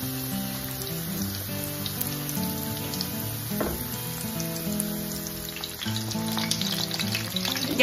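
Breaded chicken breast cutlets fry in a pan over medium-low heat, giving a soft, steady sizzle with fine crackling pops throughout, alone and moderately close.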